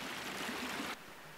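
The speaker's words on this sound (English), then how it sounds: "It turns into a rapids here" An Australian creek rushes into rapids, a steady close broadband roar of flowing water that abruptly drops to a quieter, more distant flow partway through.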